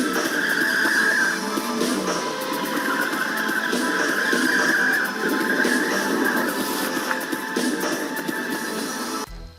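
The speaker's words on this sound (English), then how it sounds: "And here's an example of drifting." Motorcycle tires squeal and screech continuously as the bike drifts, with a wavering high whine over engine noise, steady and fairly loud throughout.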